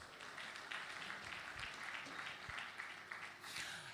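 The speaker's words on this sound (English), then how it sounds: "One more round of applause for them," Audience applause at a conference opening ceremony, a steady wash of many hands clapping together that holds evenly throughout, with faint speech underneath.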